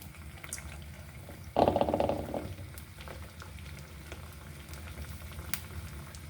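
Oil heating in a frying pan for rava vada, with a quiet background of soft bubbling broken by one brief, loud burst of sizzling that fades within a second.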